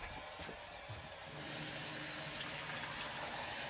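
Water tap in a caravan turned on, a short quiet pause broken by faint sputters, then a sudden steady rushing hiss of water running from the faucet, close and continuous.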